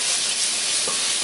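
Onions, scallions and shallots sizzling in a pan, a loud, dense, steady hiss of frying heard up close for a brief moment.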